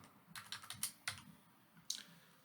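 Fingers type on a computer keyboard in a short, irregular burst of soft key clicks, close and quiet, with a few sharper taps and no talk.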